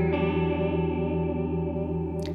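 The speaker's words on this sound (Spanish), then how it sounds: "vuelvo al terreno flanger chorus que ya teníamos antes" A guitar played through a Walrus Polychrome flanger pedal with dry signal mixed back in gives a sustained, shimmering chorus-like tone with slow sweeping modulation, ringing alone before a brief noise at the end.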